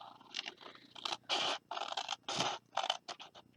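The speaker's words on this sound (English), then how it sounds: "then you take your scissors and we're going to cut" Scissors snip through paper in a series of short, crisp cuts, some quick and close together, others longer, close by and with no talking.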